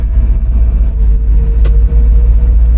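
Pickup truck driving at night with a steady low rumble of engine and road noise close by inside the cab, loud and continuous, with no talking.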